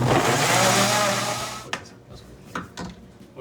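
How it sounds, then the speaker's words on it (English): A blender whirs loudly as it purees apple pieces with a little water for sauerkraut, then shuts off after about two seconds, leaving a few clunks and knocks. "use a blender."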